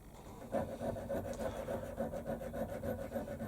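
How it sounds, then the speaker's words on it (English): Deburring the corners of a machined metal part for a ball turning tool, a steady rhythmic rasping and scraping stroke repeated evenly over a quiet background hum. "So just going around deburring all the corners now."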